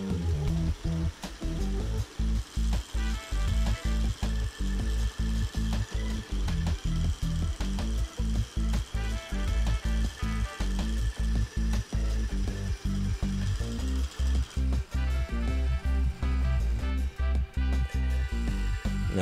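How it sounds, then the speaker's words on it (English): A homemade DIY drill press boring slowly through wood, its motor and mechanism giving a loud, steady rapid clicking, ratcheting rhythm that runs continuously with only brief stutters, close up and with no talking. "it takes a while to drill through wood, but if you take your time, it will get through the piece of wood"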